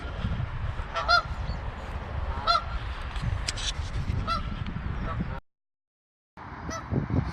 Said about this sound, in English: sure the geese are on security watch